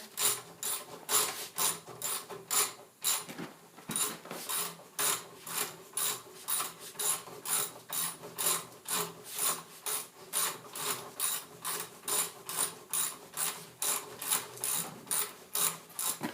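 Fast, regular rasping clicks repeat steadily as wire is pulled through a small homemade stripping tool, close up and fairly quiet.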